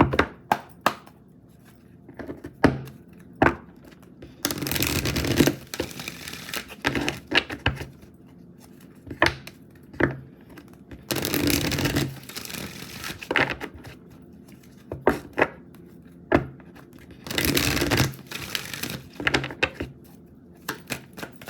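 Oracle cards are shuffled by hand in repeated bursts of riffling and rapid flicking, separated by sharp single taps and short pauses, close and fairly clear with no talking.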